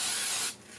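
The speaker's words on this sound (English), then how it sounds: "give them a spray." An aerosol spray can sprays paint at close range into a cardboard box, one loud continuous hiss for about half a second that then cuts off.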